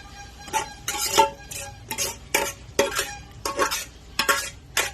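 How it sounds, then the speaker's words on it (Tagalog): Cooked garlic being sautéed in a pan for bopis, a Filipino dish, with rhythmic bursts of scraping and stirring, a faint sizzle and occasional clinks of a utensil against the pan. "Pagkaluto po ng bawang, ano ko po ito, igisa ko."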